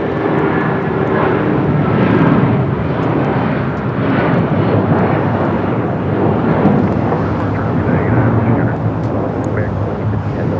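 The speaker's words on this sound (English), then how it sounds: "This is United Airlines 1400 taking off to Chicago O'Hare on the 757-300" A United Airlines Boeing 757-300 takes off at LAX, a loud sustained jet engine roar rumbling broadly and steadily throughout, heard outdoors with some wind.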